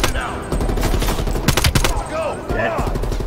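Gunfire in Call of Duty Black Ops Cold War: a dense, loud fusillade of rapid automatic shots and bursts from close by, continuous over a few seconds, with a voice briefly heard in the mix.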